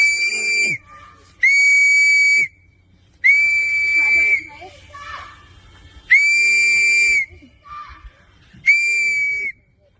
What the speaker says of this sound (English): Keep blowing your whistle.